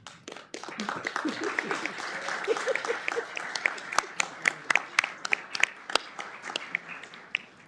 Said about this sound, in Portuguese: Palmas ao CNJ, sem dúvida, ele merece.